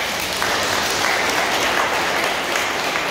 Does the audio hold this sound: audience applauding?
yes